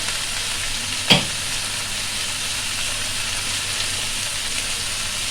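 Ginger paste with cumin, coriander and Kashmiri chilli powders fries in a pan for a prawn and spinach dish, giving a steady close hiss with one sharp clink of a utensil early on.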